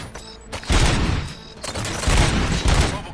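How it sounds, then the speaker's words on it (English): Rapid bursts of gunfire from robots, loud and close, a dense fusillade of overlapping shots and booms that swells in several waves across a few seconds. "Gunshots?"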